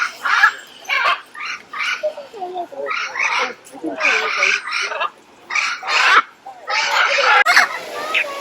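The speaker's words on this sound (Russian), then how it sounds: "И вот непосредственно сами попугаи." Parrots, including hyacinth macaws, squawk and screech in a large aviary near Foz do Iguaçu, Brazil, a string of loud, harsh, overlapping calls in close bursts.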